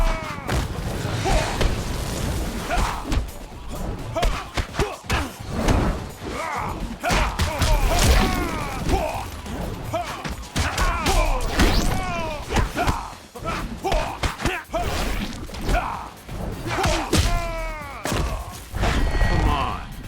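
Fight sounds from the game Mortal Kombat 9, with Johnny Cage battling Rain: a fast, busy string of punches, thuds and impacts alongside grunts and game effects, fairly quiet overall.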